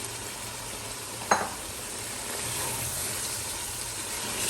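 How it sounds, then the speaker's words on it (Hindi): Mutton dropped into frying masala in a karahi, a sharp burst of sizzle as it hits the hot oil, then a steady hissing fry with some stirring, close and clear. "तो अब इसमें हम अपना मटन ऐड कर देंगे"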